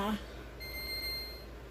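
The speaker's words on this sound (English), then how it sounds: "there's the timer." A kitchen timer beeps faintly with a thin, steady high tone for about a second in a quiet kitchen while French toast loaf dough is being made, just after a brief voice.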